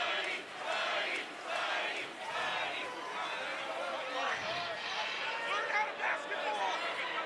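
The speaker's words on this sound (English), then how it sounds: "Well, a rowdy crowd on hand here at Exactech Arena" Rowdy crowd filling an arena before a college basketball game, Florida Gators against Gardner-Webb, a steady roar of cheers and shouts with rhythmic swells of chanting, loud and continuous with voices mixed throughout.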